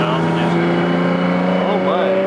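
A Porsche GT4RS mid-mounted engine, sitting right behind the cabin, drones at held high revs during a ride-along, a loud steady growl heard from inside with voices briefly talking over it.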